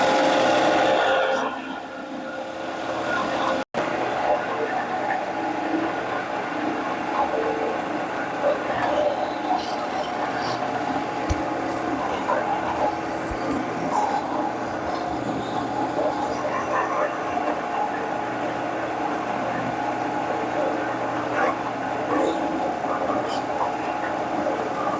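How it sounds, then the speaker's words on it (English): A drill bores steadily all the way through wood for a hand screw clamp storage rack, with a scrap piece of wood backing the cut. The grinding, rasping sound is loud and continuous, with no break for over twenty seconds. "So now I'm going to drill these all the way through."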